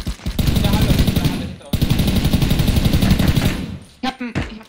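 Sustained automatic gunfire in the battle-royale shooter Ring of Elysium, loud rapid bursts running almost unbroken with a short gap, then a few sharper isolated shots near the end.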